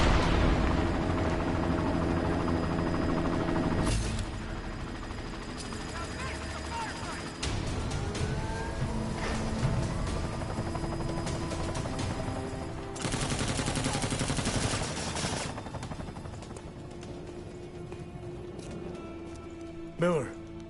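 In the video game Deus Ex: Mankind Divided, a helicopter's thudding rotor drones beneath bursts of rapid gunfire and explosions, loud and dense, with voices speaking over the combat.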